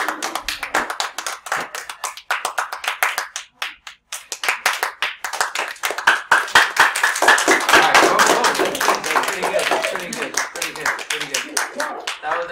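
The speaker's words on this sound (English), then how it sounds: "Mr. Pass's children clap." Students in a math classroom break into applause, sharp individual claps at first, then a dense burst of clapping that swells and trails off, with voices talking over it.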